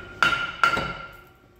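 A small tapping stick strikes a Ford Transit Mk8 front brake disc twice, giving two sharp metallic knocks with a ringing decay.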